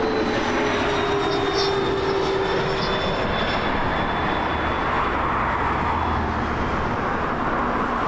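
An airliner departing Toronto Pearson's runway 24 left gives off a steady, distant jet roar with a faint whine on top, continuous and unbroken throughout.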